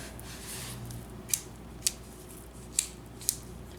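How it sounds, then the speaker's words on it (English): Raleigh Chopper bicycle gear shifter clicking through its gears, four crisp, sharp clicks spaced about half a second apart, heard close over a low background hum. "There's the shifter. Listen to the clicks on that."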